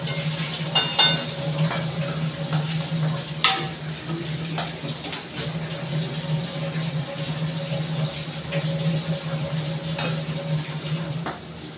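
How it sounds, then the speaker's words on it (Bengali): Fish dropped into hot oil in a home kitchen, giving a steady frying sizzle with a few sharper crackles and clinks near the start, no voices. "তেলটা গরম হয়ে গেছে, মাছটা দিয়ে দিই।"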